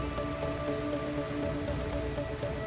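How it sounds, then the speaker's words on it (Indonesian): Heavy nighttime rain pours down steadily over Jakarta's streets, a dense continuous hiss with faint tonal hum underneath and no speech. "derasnya curah hujan yang mengguyur ibu kota pada Selasa malam"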